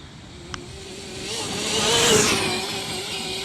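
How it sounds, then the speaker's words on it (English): A Losi 5ive-B RC car with a TP motor accelerating at speed offroad in wet conditions, a rising high-pitched electric motor whine that swells to a loud scream, then holds near and steady. "You heard that TP motor, she was getting it in."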